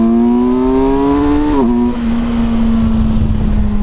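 A 2024 Kawasaki Versys 1000 S motorcycle accelerates hard in a 0 to 60 run, engine pitch climbing loudly, dipping at a gear shift, then pulling on under wind rush.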